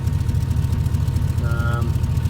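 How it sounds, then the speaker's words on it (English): The V8 engine of a 2001 Chevrolet Suburban 2500 HD running on propane, with an aftermarket dual exhaust, idles close by with a deep, throbbing, rough pulsing burble, while a brief tonal sound rises in the middle. "it sounds way better than the stock exhaust, which was on its way out"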